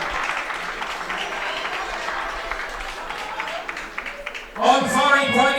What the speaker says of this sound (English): Arunima is clapping once again for her second teammate in this final.